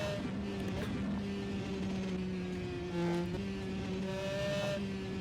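A 250cc two-stroke superkart races along the Isle of Man TT course, its engine holding a steady, loud high-pitched drone close by. The tone shifts as the revs change and briefly swells around the middle of the run.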